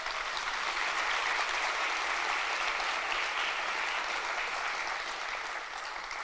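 Audience applause at a regional public hearing, a dense, steady crowd clapping that carries on throughout and eases slightly near the end, with no speech over it.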